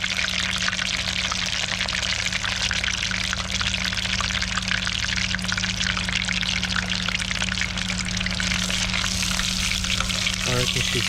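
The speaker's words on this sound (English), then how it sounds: "Now that is frying so nicely." Parrotfish fillets sizzle loudly in a hot pan, a dense, constant frying crackle that runs unbroken throughout, close up, with brief voices.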